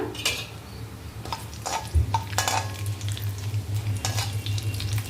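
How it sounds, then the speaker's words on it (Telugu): Mustard seeds, cumin and urad dal fry in hot oil with a steady close sizzle, scattered sharp crackles and pops, and light utensil clinks over a low hum. "ఆవాలు జీలకర్ర మినపప్పు వేసేస్తున్నాను ఫస్ట్"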